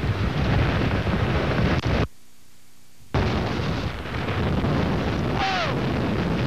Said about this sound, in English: I can't stand here without leaning. Just incredible, incredible wind.